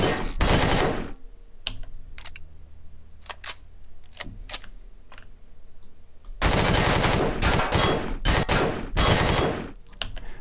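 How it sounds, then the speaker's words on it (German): Gunfire in the space survival game Empyrion: a loud automatic burst opens, then scattered single shots and clicks follow, and a second long rapid burst returns near the end, close and harsh. "Warum schieße ich eigentlich alles kaputt?"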